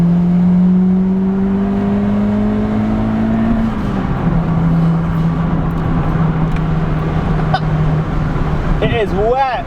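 A turbocharged Honda Civic coupe engine drones loudly and climbs in pitch as it accelerates in second gear on a wet road, then the tone drops and holds steady, with a voice talking over it.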